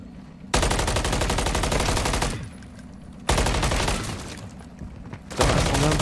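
An upgraded weapon in Warzone 3 fires in long, loud automatic bursts of fast, evenly spaced shots. Three extended volleys are split by short pauses, with one more burst starting at the end.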